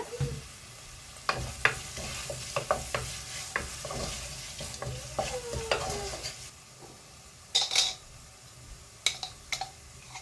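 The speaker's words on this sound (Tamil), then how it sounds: "கூடவே பச்சை மிளகாவும் போட்டு நல்லா வதக்கிக்கலாம்" Onion and green chili sautéing in a pan, with scattered spatula scrapes and stirring clicks over a low background sizzle, plus a few sharper knocks near the end.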